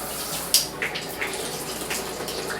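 A LOKBY six-setting handheld shower head sprays water in its low-pressure mode, making a steady soft hiss with a few brief spattering taps, heard alone and fairly close.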